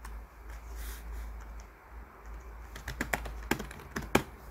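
Computer keyboard keys pressed while working in the Hangul 2020 word processor: a steady hum at first, then a quick run of sharp, close clicks in the second half, alone without talk.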